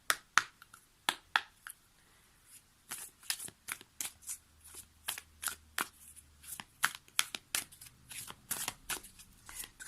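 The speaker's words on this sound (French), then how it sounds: "on va prendre une carte maintenant issue de l'oracle d'Amaham" An oracle card deck being shuffled, with a quick series of crisp riffling and snapping card sounds, close and fairly quiet, repeating in bursts with no talking.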